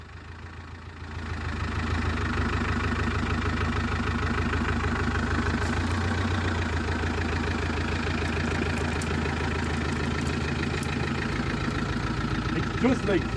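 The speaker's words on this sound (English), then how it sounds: "It's just idling around the place like it was driven yesterday" The old engine of a Land Rover Discovery 1, abandoned on a farm for 20 years, starts up and settles into a steady, rough idle, running loud and close with a faint knocking rhythm throughout.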